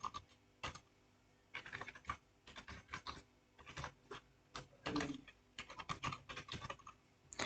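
Email address being typed on a computer keyboard: quick irregular clusters of key taps with short pauses, close and fairly quiet.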